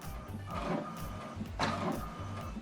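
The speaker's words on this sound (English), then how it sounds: "So what it's doing now is printing the alignment." An inkjet printer prints an alignment page, its print head carriage sweeping back and forth in repeated whirring passes with a steady mechanical hum underneath, close by and without speech.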